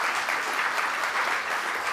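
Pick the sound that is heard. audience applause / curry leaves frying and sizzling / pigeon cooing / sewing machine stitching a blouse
audience applause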